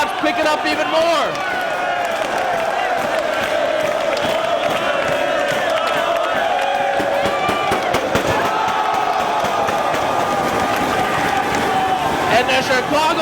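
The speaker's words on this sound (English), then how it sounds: "now this crowd's picking up even more" A packed Chicago crowd at a Ring of Honor wrestling show roars steadily as Colt Cabana turns the tables on world champion Samoa Joe. The loud, dense cheering swells throughout while a commentator talks excitedly over it.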